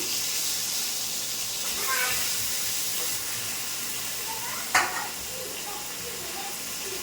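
Eggplant pieces sizzle in hot oil in a pan, a steady low hiss with occasional spatters and a sharp utensil clack near the end.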